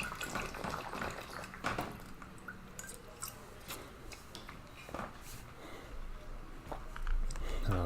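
Water trickling and dripping in the video game Prom Dreams, a soft steady stream with scattered drip splashes, faint and continuous throughout.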